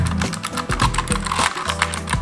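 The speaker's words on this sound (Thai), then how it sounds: "เดี๋ยวเรามาดูเสียงปุ่มกันดีกว่าว่า ตอนที ่เราพิมพ์นะครับมันจะเป็นยังไง" Typing on an MK68 Pro mechanical keyboard, a fast, steady run of close, crisp key clicks and clacks with no talking.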